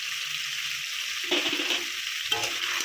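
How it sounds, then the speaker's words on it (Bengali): Ground turmeric, chili, coriander and cumin with ginger paste fry in oil in a pan, giving a soft sizzling hiss. A couple of louder stirring scrapes break through, at close range. "দিয়ে ভালো করে মশলাটাকে কষিয়ে নেব।"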